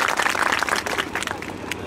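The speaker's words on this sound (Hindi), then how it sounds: "एक बार फिर जोरदार तालियों से उनका स्वागत करते हैं।" An audience claps loudly in a dense burst to welcome a guest at an event, with a voice partly under the applause.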